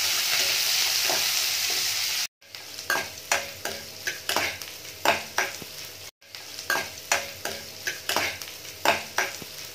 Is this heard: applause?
no